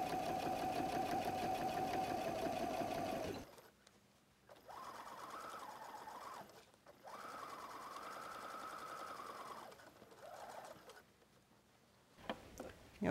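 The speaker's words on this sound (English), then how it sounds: "So start sewing." A sewing machine stitches a messenger bag, with a long fast run of stitching, then several shorter bursts separated by pauses, close and steady.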